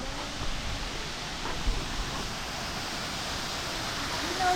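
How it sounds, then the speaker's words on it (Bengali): Steady broadband rush of Bamni Falls waterfall in Purulia, a continuous even roar heard from nearby with no talk over it. "অনেকক্ষণ ধরে ঝর্ণার সাউন্ডটা শুনছিলাম"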